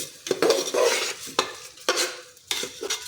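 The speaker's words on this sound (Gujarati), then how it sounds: "બધું જ આપણે સારી રીતે મિક્સ કરી લઈશું।" Washed dal and rice being stirred into a pot for vegetable masala khichdi: a spoon scrapes and clinks against the metal in a few separate strokes, with a light sizzle underneath and no talking.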